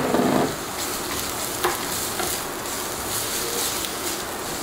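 Carrot goes into a hot pan with garlic for a salt cod salad, making a steady close sizzle with scraping stirs and a few sharper clacks of the utensil, no voices.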